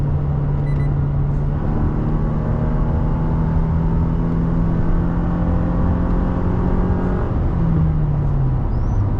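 A 2022 Toyota Tacoma's 2.7-liter four-cylinder engine drones steadily while driving, heard from inside the cab as a continuous low hum under road noise, with the pitch dipping briefly near the end.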